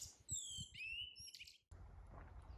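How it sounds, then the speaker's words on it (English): Several bright bird chirps and whistled phrases ring out close by, overlapping in quick succession, with a low rumbling background underneath. "just the sounds of birds revelling in having the sky to themselves"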